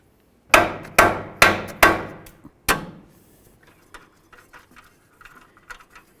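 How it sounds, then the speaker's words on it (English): A hammer strikes the steering knuckle of a 2011-2016 Hyundai Elantra in four loud metallic blows at a steady pace, then a fifth after a pause, followed by faint small taps and clinks. "we're going to carefully try to tap on the knuckle right here"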